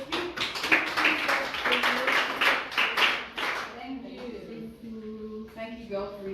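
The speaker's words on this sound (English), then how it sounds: "One more round of applause, please." An audience claps at a spellathon event. Dense, close applause fills the first few seconds, then thins out and stops as a voice begins speaking.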